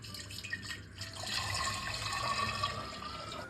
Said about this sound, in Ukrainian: На дно банки кладемо корінь хрону, заливаємо маринад.